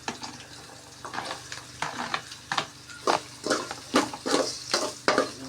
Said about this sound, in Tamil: அடுத்தது நம்ம பொடி பொடியாக நறுக்கி வச்ச பாவக்காயை போட்டுக்கலாம்.